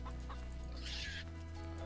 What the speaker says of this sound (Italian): una gallina che scappa, ovviamente, come ogni buona gallina che si rispetti